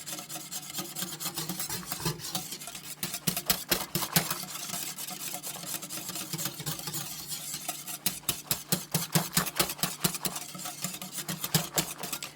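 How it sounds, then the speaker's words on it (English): Custard mixture for a double-batch baked custard being stirred and whisked by hand in a bowl, a steady close scraping and rubbing with quick rhythmic strokes that speed up into bursts of rapid beats. "I like to mix things up by hand"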